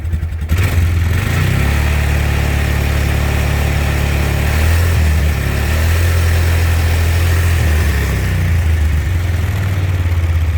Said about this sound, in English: try to rev it just a little bit, bring it up in the RPM range